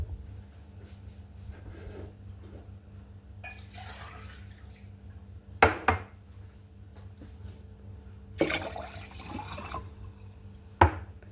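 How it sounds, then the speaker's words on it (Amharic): Water is poured into a container of cloves and other herbs for a homemade hair treatment, heard as a few brief, faint splashing bursts against a quiet background with no talking. "ከዛ በእንደዚህ አይነት መልኩ ከጨማመርኩ በኋላ ውሃ ሞላዋለሁ ማለት ነው።"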